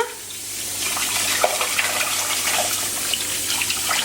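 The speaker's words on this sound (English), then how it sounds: "I usually wash my rice until it's clear because you know you need to get rid of the starch." Tap water runs into a kitchen sink while rice is rinsed and swirled by hand, a steady gushing wash with small splashes and clicks, close and alone without talk.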